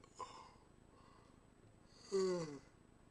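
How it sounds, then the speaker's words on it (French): A single drawn-out yawn, quiet and close, with a short breathy sound before it and the long vocal exhale coming near the end. "ça m'a fait bailler rien d'y repenser"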